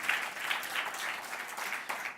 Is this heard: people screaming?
no